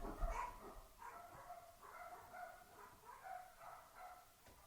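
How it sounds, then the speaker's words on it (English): Faint dogs barking and yipping in the distance, a loose run of repeated barks over a low background. "They're still barking."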